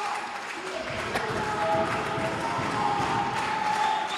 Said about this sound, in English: Listen to this crowd going crazy.